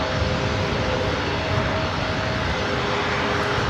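WestJet airliner taking off at LAX, a loud steady broadband jet-engine roar with a faint whine running through it, unbroken throughout.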